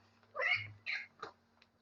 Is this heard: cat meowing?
yes